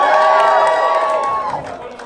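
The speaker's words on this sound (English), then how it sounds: "It's literally the biggest applause I've gotten for that." A comedy club crowd at the Orlando Improv roars with cheering, whoops and applause after a stand-up bit, loud and dense at first, then thinning and fading over two seconds.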